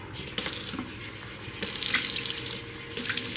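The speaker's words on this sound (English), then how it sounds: "I'm going to wash my rice." Tap water runs steadily into a pot of jasmine rice being washed at a kitchen sink, a loud continuous splashing rush with small sloshing surges as the grains are swirled.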